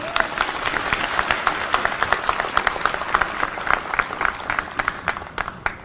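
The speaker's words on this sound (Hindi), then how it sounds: "तो इसके लिए मैं एक बार मंच से कहूंगा कि जोरदार तालियां हमारी ऑडियंस के लिए।" Loud, dense applause from a large audience at a BSP political rally in Maharashtra, steady claps continuing for several seconds with no speech over it.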